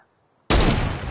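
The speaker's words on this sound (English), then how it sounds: "I'll take the light machine gun, I guess. Do you guys see my gunshots?" Light machine gun fire in a video game bursts in suddenly after a brief silence, a loud, dense volley of rapid shots sustained to the end.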